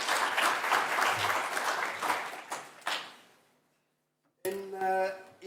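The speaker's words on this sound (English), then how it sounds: "Another round of applause, please." An audience at a TVET conference claps loudly for about three seconds, the applause fading out into silence before a voice starts speaking.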